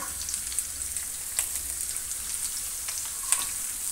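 Pieces of snake gourd (chichinda) sizzle in a pan on a very low flame for a kalonji dish, giving a steady soft crackle with a few sharper pops and no talking.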